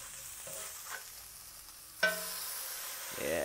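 A burger patty with caramelized onions fries on a griddle, giving a low steady sizzle with light scraping and stirring; a sharp clatter comes midway and a brief rising tone near the end.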